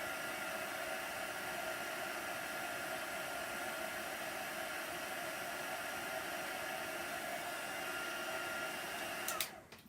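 A handheld dryer blows steadily on chalk paste on a craft project, a close, even whoosh that holds for nearly ten seconds before cutting off abruptly at the end.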